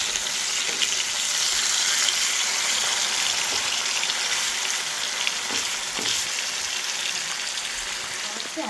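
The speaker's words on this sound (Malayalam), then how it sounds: "കരിമീൻ്റെ ഒരു സൈഡ് ഫ്രൈ ആയിട്ടുണ്ട്. അടുത്ത സൈഡിൽ നമുക്കൊന്ന് മറിച്ചിട്ട് കൊടുക്കാം." Pearl spot fish (karimeen) fries in a pan, giving a loud, dense, continuous sizzle with occasional faint clinks and crackles, and no voices.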